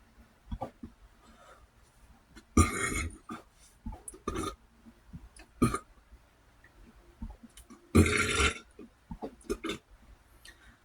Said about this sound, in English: You can tell those are full burps.